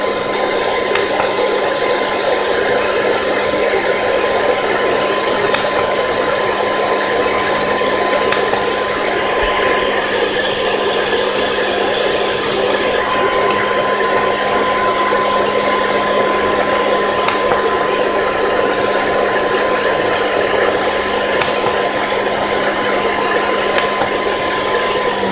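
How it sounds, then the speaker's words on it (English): A Dell 750W 62A computer power supply fan running in high-speed mode gives a loud, steady whirring drone with a constant tonal whine that holds unchanged throughout, with no talking. "the fan kicked up in a high speed"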